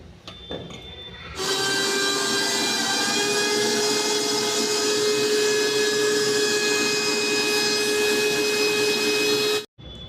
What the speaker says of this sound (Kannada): ಇದನ್ನೀಗ ಮಿಕ್ಸಿಗೆ ಹಾಕೊಂಬರೋಣ.